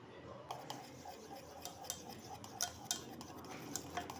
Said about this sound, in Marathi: आता मी अजून थोडं दहा ते पंधरा मिनटं फेटून घेते